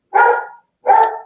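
A dog barks twice, two loud, close, rough barks separated by a short pause, with nothing else around them.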